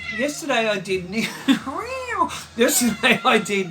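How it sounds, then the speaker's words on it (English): A pet cat meowing insistently for attention, several loud drawn-out and rising meows close to the mic, mixed with someone talking. "my crazy cat Mookie has entered the building, and he wants a bit of attention, so that's him making all the noise"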